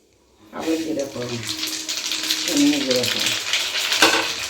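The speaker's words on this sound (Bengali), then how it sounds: "কালো জিরে আর এমনি জিরে ফোড়ন দেওয়া হলো" Black cumin and cumin seeds hit hot oil on a gas flame, bursting into a loud, steady sizzle and crackle that continues throughout, with a voice speaking over the frying.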